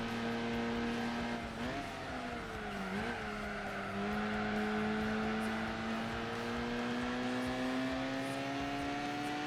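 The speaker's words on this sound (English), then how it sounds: "that's the only reason I changed the exhaust, Luna, was just to get it to sound a bit rac" Mazda Miata race car with a modified, racier exhaust in Gran Turismo 4 on PS2, its engine droning steadily with brief dips as it shifts, then a sustained high rev, heard alone at moderate level.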